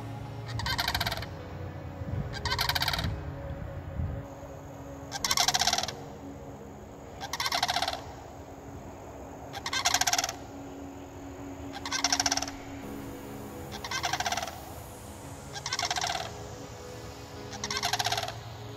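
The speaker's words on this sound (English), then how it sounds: "I don't think I've ever heard a bird sound quite like that before." Birds give repeated loud gobbling calls in regular bursts every couple of seconds, close by, over a low steady background rumble.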